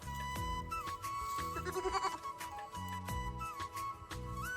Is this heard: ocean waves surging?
no